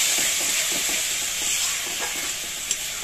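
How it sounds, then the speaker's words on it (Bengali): A masala spice paste thinned with a little water sautés in a pan, giving a soft steady sizzle with faint stirring scrapes underneath. "মশলাটা 2 মিনিট কষিয়ে নিতে হবে।"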